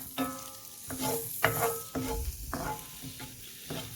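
Reaper peppers sautéing in a pan, a steady close sizzle broken by several sharp scraping stirs spaced about half a second apart, with no one talking.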